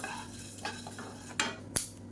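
Horse gram dry-roasts in a pan, with scraping stirs and a few sharp crackling pops over a low, steady background.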